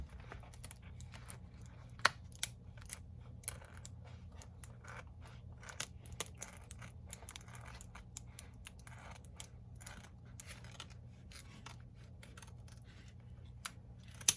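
Quiet, sharp snips of scissors cutting, irregularly spaced over a steady low hum, with no voices, during kitchen wall tile installation.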